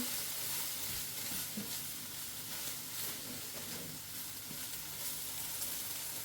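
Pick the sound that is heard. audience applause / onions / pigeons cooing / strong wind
onions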